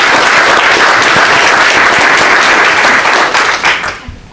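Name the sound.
crowd applause at political announcement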